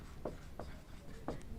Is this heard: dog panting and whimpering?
no